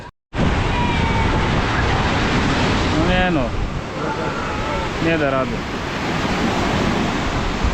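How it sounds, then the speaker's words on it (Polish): Loud, continuous roar of heavy surf and wind fills the air, with brief speech heard over the crashing waves. "Za wielka fala."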